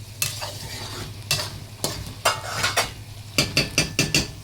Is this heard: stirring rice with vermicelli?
yes